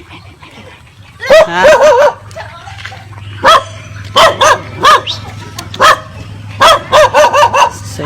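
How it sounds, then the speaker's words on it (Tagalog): A dog on a farm barks in short clustered bursts, loud and close, with brief yips between volleys while a person speaks briefly. "May aso guys."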